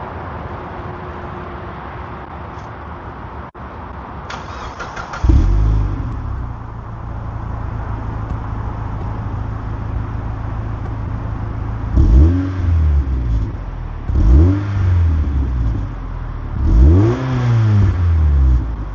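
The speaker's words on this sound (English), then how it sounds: "It has still got a resonator." A Mazda MX5 NB engine with an aftermarket exhaust and resonator idles steadily, then revs sharply three times in quick succession, each rise and fall loud and close with a throaty exhaust tone.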